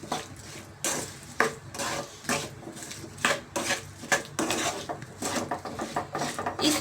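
A spoon mixes vegetables and marinade ingredients with oil in a pot for Hyderabadi vegetable biryani, giving repeated scraping and clinking strokes at close range in an uneven rhythm, with no talking.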